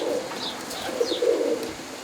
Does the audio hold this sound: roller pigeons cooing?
yes